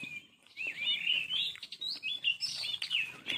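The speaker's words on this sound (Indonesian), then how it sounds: "Ada iringan muzik bunyi burung-burung ni." Birds chirp and tweet continuously in high, warbling bursts, fairly close and steady, with no talking.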